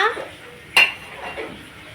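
Popcorn kernels are stirred in oil in a pan, with a utensil scraping and clinking against the metal, including one sharp knock midway, over soft rustling.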